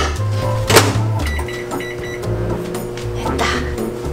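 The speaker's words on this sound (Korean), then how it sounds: "일단 이 타피오카를 1cm 뜯은 다음에 전자레인지에 2분 돌리면 돼" A microwave oven heats tapioca pearls for bubble tea at home, giving a steady low hum with a faint mechanical rattle running through the whole few seconds, fairly close and with no talking.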